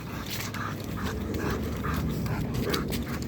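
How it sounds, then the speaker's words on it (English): A dog pants steadily with soft, repeated whimpers close by during an outdoor walk, the rhythmic breaths continuing throughout with no talking. "And there's another dog over there"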